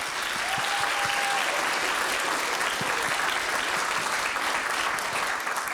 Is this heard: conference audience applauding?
yes